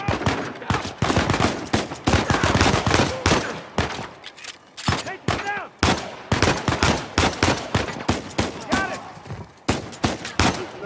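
Rapid gunfire in Uncharted 4: A Thief's End, with dense automatic bursts and single shots crowding each other, loud and close, and only brief gaps between volleys.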